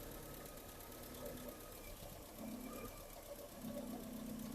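Classic MG car engine idling steadily around 900 RPM after twin carburettor balancing, a continuous close, even rumble with a faint mechanical whine and no talk.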